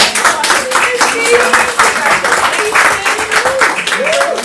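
Team members in a meeting give a round of applause, brisk dense clapping throughout with voices and cheering mixed in over it.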